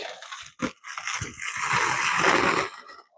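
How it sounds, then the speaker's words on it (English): Close, crackly rustle of protective plastic film being peeled off a portable air conditioner, starting with a few sharp snaps then a long continuous crinkling tear. "Let's peel this plastic."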